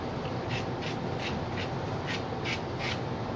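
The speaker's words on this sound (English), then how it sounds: "gently dress the rods so they're tapered." Rhythmic rasping strokes of a carbon rod end being dressed to a taper to remove a burr, about eight even back-and-forth rubs close up with no voices.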